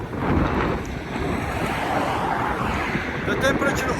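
Wind gusting strongly and steadily across an open outdoor setting in the Bordeaux region of France, roaring close into the microphone with broadband rumble and buffeting for the whole stretch.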